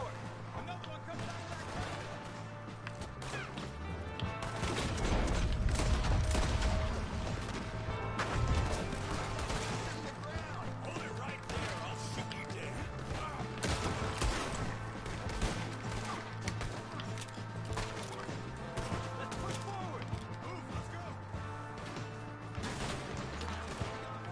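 Gunfire in Red Dead Redemption 2, with a busy shootout of shots and impacts rising around the middle and continuing under game music and voices shouting throughout.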